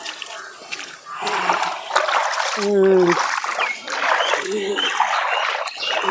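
Irrigation water gushes and splashes steadily as it is let into a raised patch of a farm field, a continuous rushing and trickling with a person's voice heard briefly over it.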